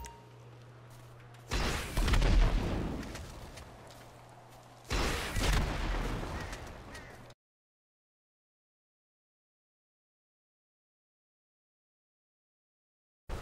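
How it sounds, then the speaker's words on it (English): Rocket blasts striking an armored vehicle in GTA 5: two heavy, booming impact bursts, each roaring loudly then trailing off, followed by silence and a faint click at the end. "So we're going to give it a couple of rocket shots and see how many shots it takes till it actually explodes."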